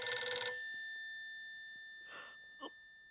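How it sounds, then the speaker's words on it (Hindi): A landline telephone bell rings in one loud metallic burst that fades away, followed by faint distant rings. "अरे बाप रे, सेठ जी का फोन।"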